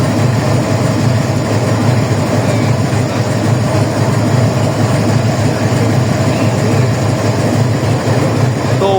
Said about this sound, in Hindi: एक ट्रायल रन है न्यू फ्रेट वैगन्स का